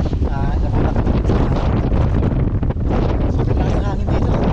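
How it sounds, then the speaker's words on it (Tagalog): Strong wind roars and buffets the microphone at a mountain peak, a loud continuous rush throughout while people talk underneath. "sobrang lakas ng hangin dito, grabe"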